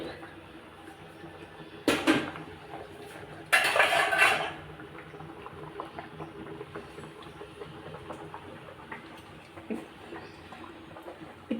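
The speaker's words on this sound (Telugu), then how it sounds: "మూత తీసుకుందామండి" A metal pot lid comes off a cooking pot with two short, loud clattering bangs over quiet kitchen background noise.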